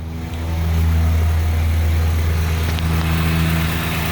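A 2002 Honda CR-V engine runs steadily at idle with the A/C off, a loud, close, continuous low drone with a strong steady hum that holds even from start to finish.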